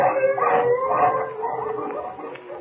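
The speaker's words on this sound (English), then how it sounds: "The wolves. They're coming closer." Wolves howling as a radio drama sound effect in a snowy wilderness sled scene, a loud continuous chorus of overlapping wavering howls and yips up close, with no voices over it.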